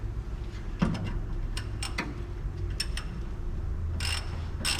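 A ratchet wrench loosening a bolt on a 1970 Dodge D100 pickup, with scattered metallic clicks and short ratcheting bursts over a quiet garage background, ending in a couple of louder rapid clicks.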